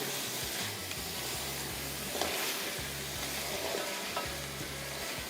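Onion and tomato gravy for biryani fries in a pan with a steady, fairly quiet sizzle and a soft hiss. A spoon stirs and scrapes now and then, and a few faint clicks are heard.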